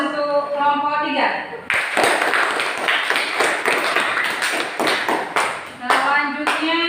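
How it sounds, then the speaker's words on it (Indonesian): Classroom of students claps for a group after its presentation, a burst of many hands lasting several seconds between stretches of a teacher's voice, with talk continuing over the clapping. "Kita kasih tepuk tangan dulu untuk kelompok 3."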